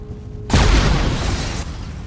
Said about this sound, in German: Bumm, die hat eingeschlagen.